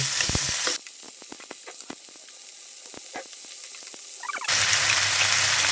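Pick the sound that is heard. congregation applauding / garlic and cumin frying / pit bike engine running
garlic and cumin frying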